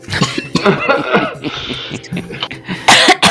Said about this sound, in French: Il commence à tousser.